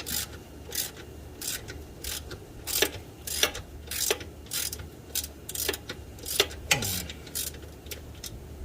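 A wrench ratchets a bolt on a Honda 420/500/520 ATV during a primary gear reduction install, a rhythmic series of close metallic clicking bursts, about a dozen strokes, with a brief heavier clunk partway through.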